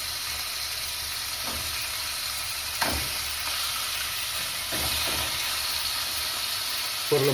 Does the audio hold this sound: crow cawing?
no